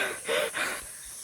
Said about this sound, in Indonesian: Ini isi videonya napas.